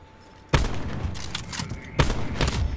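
Two loud sniper rifle shots boom in a one-on-one video game match, spaced about a second and a half apart, each trailing off into a long crackling decay.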